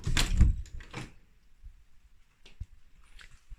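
A bathroom door in a Canadian apartment is opened: a fairly loud clunk and rattle at the start, followed by softer knocks and faint clicks in a quiet room.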